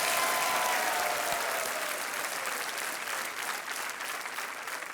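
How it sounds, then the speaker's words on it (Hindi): Steady applause rolls on from a television quiz show's studio audience, a thick wash of clapping that starts strong and gradually softens a little over its length. "तालियां बजती रहें"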